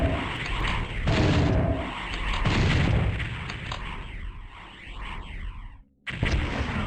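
A spider monster in Doom 64 fires in heavy, booming bursts, loud and close, with explosive impacts and rumbling blasts, a brief drop to near silence, then firing again.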